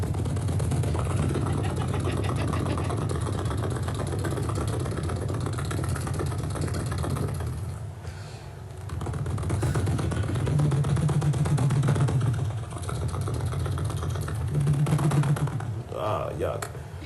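Vocal percussion mimicking a helicopter at a live science festival show in Baltimore: a continuous fast chopping, buzzing pulse sustained loudly, briefly dipping around the midpoint before resuming with throaty rotor-like rumbles.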